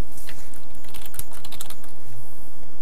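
Fast, close keystrokes on a computer keyboard click in an irregular burst of taps, with no voices.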